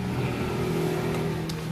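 A Yamaha F1ZR motorcycle engine with a flooded carburetor running steadily nearby, a continuous buzzing two-stroke drone with an even, unbroken tone and no talking.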